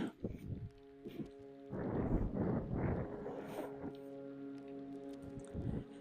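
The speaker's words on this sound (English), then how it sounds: "Oh, so windy." Gusts of wind buffet the microphone in loud rumbling bursts in an abandoned Siberian village in Yakutia, easing into a softer rush, with a faint steady hum underneath.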